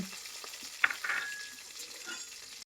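Ginger, curry leaves and green chilies sautéing in hot oil for a pickle give a steady close sizzle, with a brief stirring clink partway through, before it cuts off abruptly.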